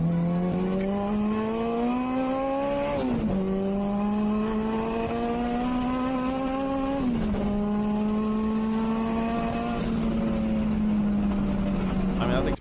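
A turbocharged Honda Civic pulls hard from 40 to 120, its engine note climbing steadily through three long gear pulls with sharp drops at each shift, loud and close throughout.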